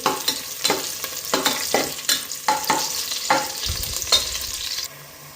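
Green masala fries in a mix of ghee and oil, giving a steady sizzle broken by repeated sharp scraping stirs, a dozen or so strokes, close and clear, with the sizzle easing at the end.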